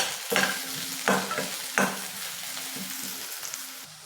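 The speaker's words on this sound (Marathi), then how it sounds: "अर्धा वाटी काजू घेतलेले आहेत ते सुद्धा परतून घ्यायचे आहेत" Half a bowl of cashews sautés with golden-brown onions in a pan, a steady sizzle punctuated by three distinct scraping stirs early on, then softer movement; close and moderately loud, without voices.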